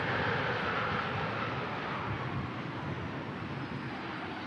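Aircraft at Manchester Airport in strong crosswinds, a faint, steady broadband roar of jet engine and wind rush with no distinct events.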